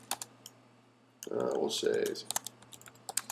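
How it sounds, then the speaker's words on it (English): Typing on a computer keyboard brings bursts of quick, close key clicks, some strokes standing alone and others in clusters, while a person speaks briefly over part of it. "you can start typing in the information."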